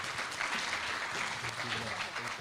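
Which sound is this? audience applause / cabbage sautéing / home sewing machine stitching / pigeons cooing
audience applause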